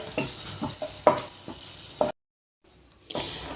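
Butter is stirred into a thick, reducing red wine sauce in a pan, giving a run of wet scraping and squelching strokes at an irregular rhythm over a soft sizzle, then a brief silence before the stirring resumes.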